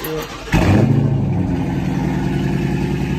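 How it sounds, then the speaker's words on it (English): A Dodge Charger SRT 392 V8 with a catless exhaust fires up abruptly, then settles into a loud, rumbling, close-up idle with a throbbing rhythm. "We're gonna hear how the car sound."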